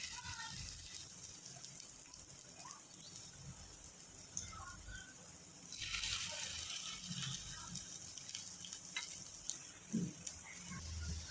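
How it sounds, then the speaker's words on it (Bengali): Small fish egg fritters fry in hot oil in a frying pan, making a steady, dense sizzle that runs the whole time and swells louder partway through. "এবার একটা ফ্রাইং প্যানে তেল গরম করে ছোট ছোট বড়ার আকারে ভেজে নেব।"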